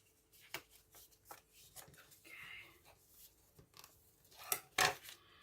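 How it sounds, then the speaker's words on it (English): Paper being folded by hand for a paperclip bookmark, soft close crinkles and rustles with a few brief creasing snaps, faint and irregular, one crisp crackle standing out near the end. "And then we're going to fold back once again."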